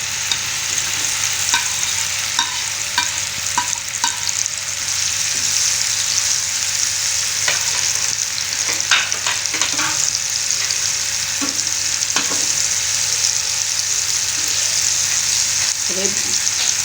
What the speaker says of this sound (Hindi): भिंडी के साथ हरी मिर्चें भी हैं, उनको भी हम फ्राई कर रहे हैं।